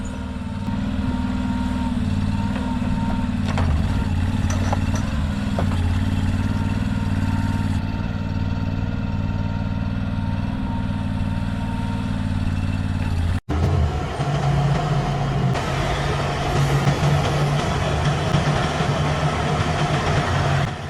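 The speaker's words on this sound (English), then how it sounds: "Right here, we have a Kenworth W900, a true giant of the logging industry, now trapped in a nightmare scenario, sinking deep into the unforgiving mud" A Kenworth W900 logging truck stuck deep in mud runs its diesel engine with a steady low rumble, close and loud, then briefly cuts out and resumes with a rougher, shifting drone.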